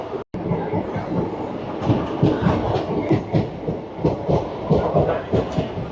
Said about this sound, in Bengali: ট্রেনটি তার রুদ্ধশ্বাস গতিতে হলদিয়া থেকে আসানসোলের উদ্দেশ্যে এগিয়ে চলেছে।